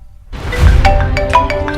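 A phone rings loudly and close, a bright electronic ringtone with rapid repeating tones starting abruptly after a brief quiet.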